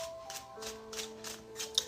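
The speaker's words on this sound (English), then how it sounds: "We need 3 more shuffles." Tarot cards are shuffled in several quick, soft riffling bursts with a regular rhythm, close and quiet, with a faint steady hum underneath.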